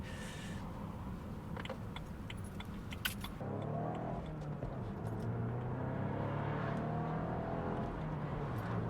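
A BMW Z4 convertible's engine climbs in a rising rev toward 7,000 RPM, a steady droning note sweeping upward after some brief jangling and rattling at the start.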